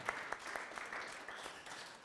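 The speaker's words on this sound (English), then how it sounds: "Applause." Workshop audience claps as a presenter is introduced, a short, moderately quiet burst of steady applause in a room.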